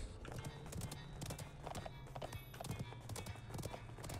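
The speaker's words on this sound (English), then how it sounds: "I like the metal clink of, like, the horse as well." A horse mount in a video game trots with steady clip-clop hoofbeats carrying a metallic clink, close and continuous, with a brief whinny-like sound among the steps.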